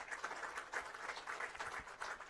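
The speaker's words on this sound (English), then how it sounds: "could you please give these gents a round of applause" Quiet audience applause for guests joining the stage at an Autobarn Lowndes Racing Team event, a soft, steady patter of hand claps that holds through the whole moment at a distance.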